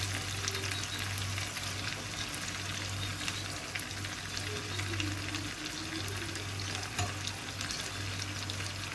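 Chicken frying over a medium flame for an Afghani chicken gravy, a steady low sizzle that runs unbroken and fairly quiet from start to finish with no voices.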